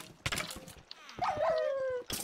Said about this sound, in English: That's a mean looking doggy.